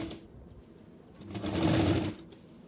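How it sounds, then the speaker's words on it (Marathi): A domestic sewing machine stitches the inward-folded edge of a designer blouse neck, running in one steady whirring burst that swells loud for about half a second before stopping. "आधी स्टिच करून घ्यायचं आहे. ते असं आतल्या बाजूला शिवून घ्यायचं आहे."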